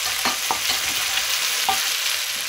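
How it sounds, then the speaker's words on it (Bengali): Meat is added to a pan of frying onions and stirred, giving a steady close sizzle with a few sharp scraping strokes of the spoon. No one speaks. "এখন মাংস দিয়ে দিচ্ছি"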